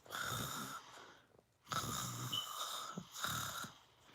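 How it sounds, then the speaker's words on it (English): A person snores while sleeping: three long, raspy, rhythmic snores, each followed by a short quiet pause, close and moderately loud, with no talking. "you sit here and sleep and snore like your dad"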